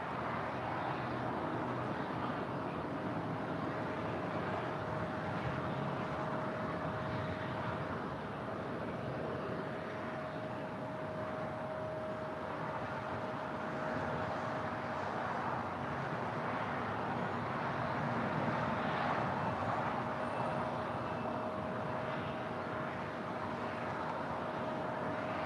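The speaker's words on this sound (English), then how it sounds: "And that is the China Airlines A350, also landing up there on the north side" A China Airlines Airbus A350 jet lands and taxis at LAX, turning onto a taxiway on the north side, heard as a steady, distant engine roar with a faint whine, broad and unbroken for the whole stretch.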